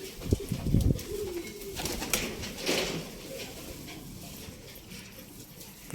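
Pigeons coo softly nearby in a coop, with occasional fluttering and shuffling in the enclosed space.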